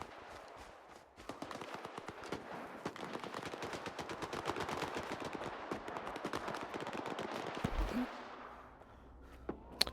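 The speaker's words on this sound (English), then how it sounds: "we may need to go towards that gunfire as well" Rapid bursts of gunfire in the video game S.T.A.L.K.E.R. 2: Heart of Chornobyl crackle continuously for several seconds, dense and loud, then thin out into sparse shots near the end.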